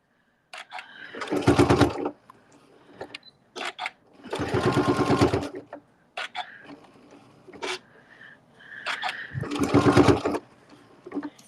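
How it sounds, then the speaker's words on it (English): A sewing machine stitches a straight seam across a practice panel bag, running in three loud, close bursts of steady motor whir and needle chatter with brief quiet gaps and small handling noises between. "And then we're going to take this and just stitch across."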